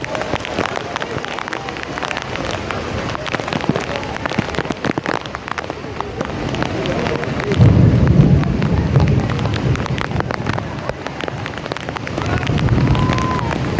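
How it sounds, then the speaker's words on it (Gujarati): Heavy monsoon downpour pours over flooded streets in Surat, a loud, dense, unbroken roar of rain hitting water and surfaces, swelling briefly midway, with faint voices buried beneath it. "આવો વરસાદ છે સુરતનો ધોધમાર વરસાદ."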